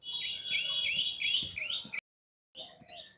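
Pigeons at a home loft pecking at soil in a tub make rapid, bright chirping calls close by, breaking off into a brief silence before resuming.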